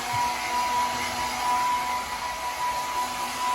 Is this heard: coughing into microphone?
no